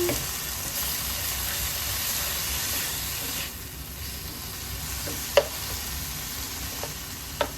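Whole tomato cooking down in a pan for vegan sloppy joes gives a steady, close frying sizzle with a soft hiss, broken by a few sharp utensil clicks near the end.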